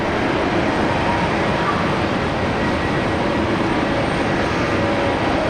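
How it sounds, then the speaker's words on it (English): A Virgin Australia airliner bound for Sydney rolls for takeoff on the Brisbane Airport runway, its engines a broad, steady roar heard from a distance without letup. "Virgin Australia is rolling now off to Sydney, flight 920."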